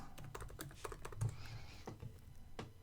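Rapid, uneven keystrokes on a computer keyboard, close and clear, forming short bursts of clicking with brief pauses between them.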